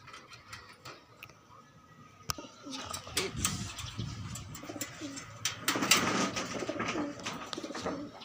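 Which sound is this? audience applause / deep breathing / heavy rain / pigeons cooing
pigeons cooing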